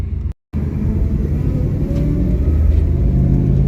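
A 1963 Studebaker Champ pickup truck engine idles close by with a rough, uneven rumble, briefly cutting out near the start before rumbling on steadily.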